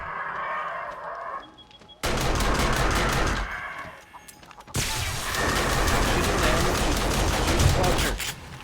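Gunfire in the zombie survival game 7 Days to Die, Undead Legacy mod: dense, loud bursts of shots in two long stretches separated by a brief lull, with talk in the background.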